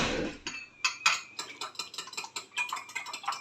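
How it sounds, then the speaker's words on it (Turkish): Whisk or fork beating broken eggs in a bowl, a quick run of clinking, scraping strokes against the dish, fairly close and steady, with no talk over it. "Neden yumurtalarımızı kırdık Arkadaşlar şimdi karıştırıyoruz"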